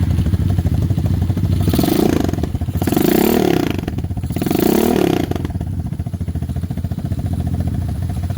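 A used Lifan KP Mini 223 OHC 165FMM single-cylinder engine runs close by with a steady chugging clatter, its revs swelling and falling in three bursts before settling back to idle.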